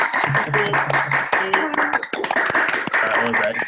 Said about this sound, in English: give a big thank you, big round of applause to Martin Brown